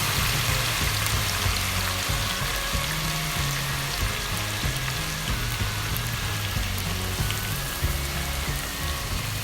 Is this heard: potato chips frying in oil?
yes